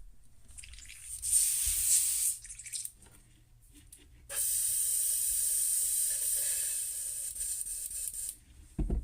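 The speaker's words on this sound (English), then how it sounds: "Oh, I'm cleaning out the airbrush here." An airbrush used for painting fishing lures is cleaned out with hissing sprays, a short burst followed after a pause by a longer steady spray of several seconds, close and fairly quiet.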